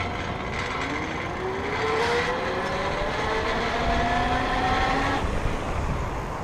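An E-BikeKit 350W geared hub motor on an e-bike under full throttle, a rising whine that climbs steadily in pitch over continuous road and wind noise, heard up close without talk.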